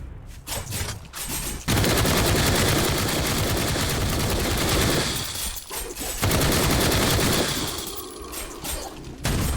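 Repeated mortar fire from Night of the Dead booms in rapid succession, a dense, loud barrage of overlapping blasts, with brief lulls before the volleys resume at a steady rate.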